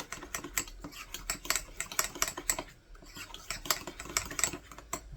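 Two forks clink and scrape rapidly against a bowl or pan while mixing broccoli cheddar chicken pot pie filling, a close, busy clatter of metal on dishware with no talking.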